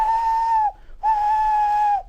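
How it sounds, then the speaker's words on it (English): Two long, loud steam whistle blasts, the first shorter, each a steady piercing tone separated by a brief silence. "whistling for help"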